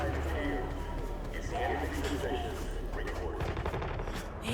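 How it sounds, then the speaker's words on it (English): Gunfire rattles through a Cyberpunk 2077 city scene, bursts of shots blending with game ambience and background noise, moderately loud and continuous throughout. "I hear some gunshots"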